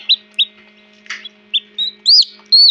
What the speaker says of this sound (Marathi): तुम्हाला लाईव्ह दाखवतोय मी की अंड्यातून पिल्ले कसे बाहेर निघत आहे